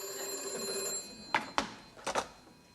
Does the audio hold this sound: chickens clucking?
no